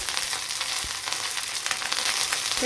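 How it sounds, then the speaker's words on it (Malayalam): Curry leaves and cut dried red chillies crackle and sizzle in hot oil, a dense, close, continuous frying hiss with no voices over it. "ഇതിലേക്ക് ആവശ്യത്തിനുള്ള കറി ലീവ്സ് ഇട്ട് കൊടുക്കുക."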